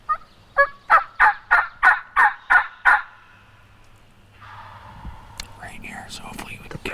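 A wild turkey gobbler on public land in New York gobbles in a rapid string of about eight loud, close rattling notes, followed by quieter rustling and a soft whisper.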